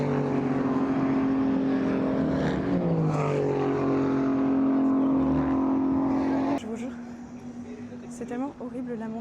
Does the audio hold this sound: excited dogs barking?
no